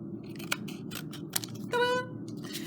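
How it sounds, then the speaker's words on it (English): Scissors snip through a piece of cardboard, giving a few sharp, close cuts and a short grinding rasp, with no voices. "So I'm going to cut a piece off of here."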